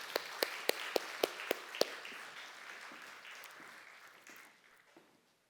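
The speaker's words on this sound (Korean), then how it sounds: "박수로 따뜻하게 맞이하도록 하죠" A church congregation claps in welcome, starting with a few sharp, evenly spaced claps that blend into a softer, scattered round of applause fading out over several seconds, with faint murmuring.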